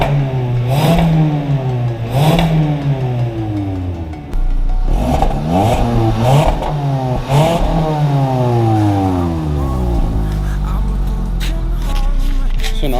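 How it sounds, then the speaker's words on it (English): Stock exhaust on a 2017 Kia Forte5 with a 2-liter naturally aspirated engine, revved repeatedly so the pitch rises and falls in loud close sweeps, with a steady idle drone underneath. "So this is the current exhaust, stock exhaust on the Kia Forte5 2-liter NA"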